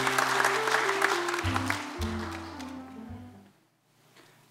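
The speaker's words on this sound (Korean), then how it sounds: "더 잘하도록 박수로 환영을 하도록 할게요" Congregation applause at a Jesuit new priest's first Mass, welcoming the next speaker. The clapping is loudest at first and fades out, with a sustained organ-like tone beneath that drops away near the end.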